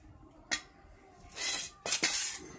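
Dishes and metal bowls clink and clatter close by in a home kitchen as cooked meat is set aside, with a sharp knock followed by bursts of scraping and rattling.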